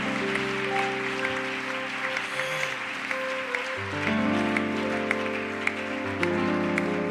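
Church congregation applauding to welcome a pastor onto the stage, a steady broadband clapping wash over sustained organ or keyboard chords, with a few sharper claps standing out.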